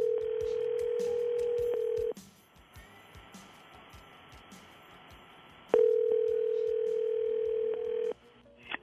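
A telephone dial tone heard while calling a number: a steady, loud electronic tone holds for about two seconds, drops to a quiet gap, then returns for another long stretch before cutting off.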